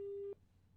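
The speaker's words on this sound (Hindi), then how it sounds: "लगता है फोन डिस्कनेक्ट हुआ है उनका।" A single steady telephone busy tone sounds clearly for about a third of a second after a phone line disconnects during a live Hindi TV news call, then cuts off to faint background hum.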